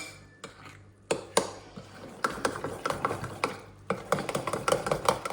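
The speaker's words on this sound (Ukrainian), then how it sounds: "добре перемішуємо" Irregular clinking and scraping of a utensil stirring batter in a bowl, a run of quick strokes that grows busier toward the end, close and fairly loud.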